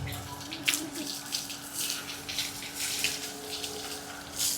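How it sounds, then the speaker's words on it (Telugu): Water runs from a pipe while a dog is bathed outdoors, a continuous close gushing and splashing stream with small surges and drips, steady throughout and without any talking. "పైపులో నుంచి నీళ్ళు వస్తున్నాయి"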